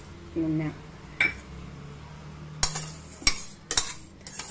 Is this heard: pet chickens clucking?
no